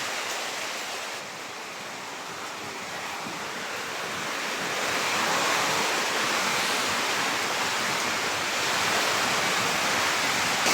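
Heavy rain from Super Typhoon Uwan pours in a loud, steady roar that builds slightly partway through, with no voices.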